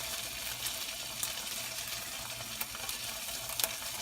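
Bacon fries in a pan with a steady, dense sizzle and crackle throughout, punctuated by a few louder pops and small clinks of handling, close and constant with no talking.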